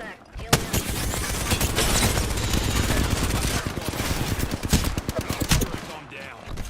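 Knuckle cluster weapons in a video game fire in a loud, dense volley of rapid shots. The bursts crackle almost nonstop before thinning out at the end.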